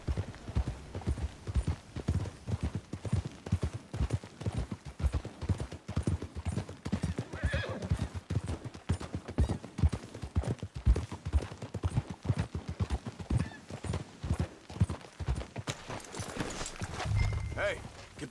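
Horse hooves clip-clop at a steady trot in the Red Dead Redemption 2 video game, a continuous rhythmic patter with an occasional whinny, while voices talk over it.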